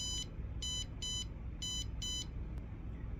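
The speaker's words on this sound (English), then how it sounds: "I skip to where the buzzer is about to stop beeping" The buzzer on an STM32 embedded weather station beeps in short, high electronic pulses, five evenly spaced beeps in quick succession against a quiet background hum before it stops.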